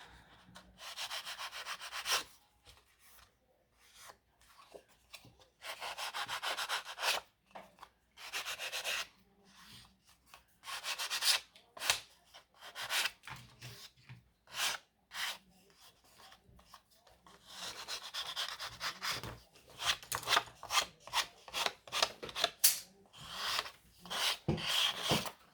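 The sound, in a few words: nail file filing off cut edges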